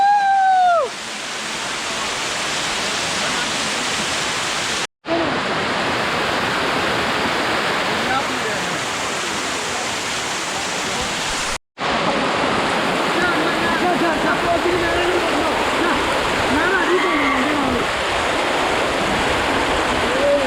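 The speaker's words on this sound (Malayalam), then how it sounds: "ഇത് വെള്ളം ചാടുന്ന സൗണ്ടാണ്." A waterfall at Munnar roars in a steady, loud broadband rush that fills the whole stretch, broken by two brief cuts, with a voice speaking over the start.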